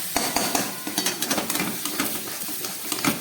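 A cardamom and milk paste filling for Bengali pitha is cooked in a pan, with repeated metal spoon scrapes and clinks on the pan against a faint sizzle, close and without talk.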